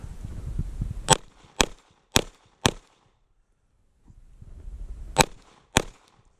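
A Glock 17 pistol fitted with a Johnny Glocks competition trigger fires six sharp, loud shots outdoors: four evenly spaced, then a short pause, then two more.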